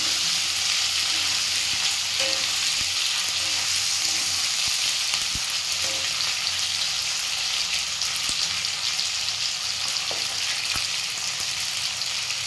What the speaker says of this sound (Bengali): আমার পেঁয়াজটা দিয়ে ভালো করে ভেজে নিতে হবে হালকা করে।